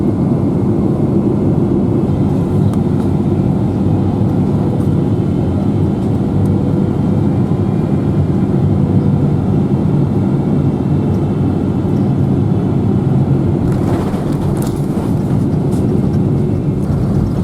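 An airliner lands in Chicago with its wheels down, heard as a steady, loud broadband cabin engine rumble and whir throughout, with a brief rattling burst near the end.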